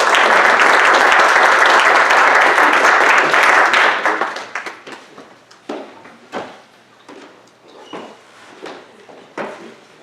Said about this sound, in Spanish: Pido un aplauso para ambas,